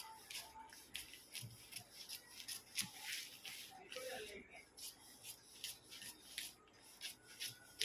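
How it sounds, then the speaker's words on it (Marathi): Scissors cut through blouse fabric close up, making a series of short, soft snipping and rustling strokes in an uneven rhythm, with a voice speaking quietly in places. "थोडंसं मी एक्स्ट्राचं कापून टाकतो"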